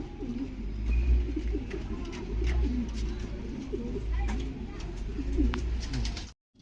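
Homing pigeons coo repeatedly nearby in a loft, soft throaty warbles overlapping over low background noise, with a few clicks and rustles before everything cuts out.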